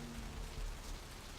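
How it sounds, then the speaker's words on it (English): Steady rain falls in the video game Vampire: The Masquerade – Bloodlines as a soft, even hiss with faint low rumbles underneath, quiet and continuous, with no talking. "Very rainy evening."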